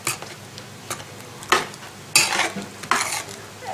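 Chopped carrots and celery are mixed into a dish of vegetables bound for the microwave, giving several scraping, clattering stirs in uneven bursts, close and moderately loud, with no talk.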